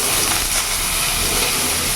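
Whole spices for a shukto tempering fry in a pan over a medium gas flame, giving a steady, close broadband hiss that holds evenly for two seconds with no voices.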